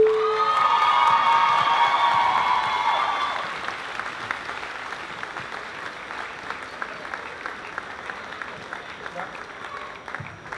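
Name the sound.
audience applause at a high school graduation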